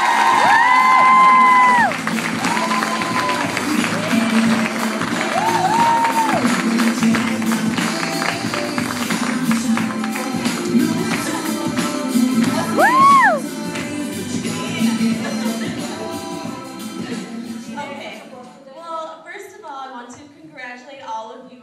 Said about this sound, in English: please give a round of applause for Kassandra Kambeitz